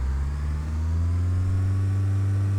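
In Flight Simulator X, a Cessna 172 engine throttles up. Its steady droning tone rises gradually in pitch and grows slightly louder over a few seconds.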